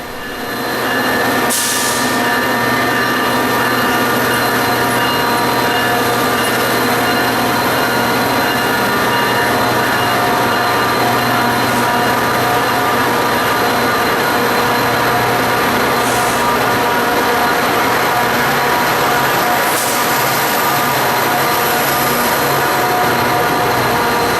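A Tri-Rail commuter train in South Florida runs through a station with a loud, continuous rumble, engine hum and faint wheel squeal that stay steady and close throughout.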